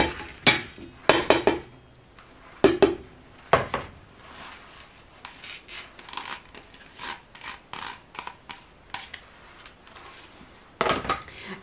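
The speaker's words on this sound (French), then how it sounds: "Je vais me servir d'une marmite. Donc je vais y mettre le petit épeautre dedans." Petit épeautre spelt grain is tipped into a cooking pot with scattered sharp clanks and knocks of the pot and utensils, separated by quieter rustling and shuffling of the grain.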